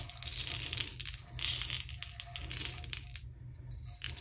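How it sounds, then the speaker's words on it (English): Multicolored crushed glass shifts and crunches as it is handled, a continuous gritty crinkling with slight swells in loudness over a low steady hum, fairly quiet and close, with no talking. "This is multicolored crushed glass that I got from Amazon."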